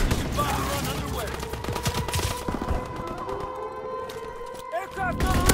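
Gunfire in a WWII video game, with rapid bursts and volleys of shots over a busy battle backdrop, while a game announcer's voice and other speech run through the whole stretch.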